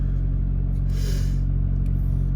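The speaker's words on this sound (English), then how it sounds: "it's showing that the rev is going down because the vehicle is getting warmer" A car engine idling while it warms up, giving a steady low rumbling drone heard up close, with a brief brighter rise of noise near the middle and no speech.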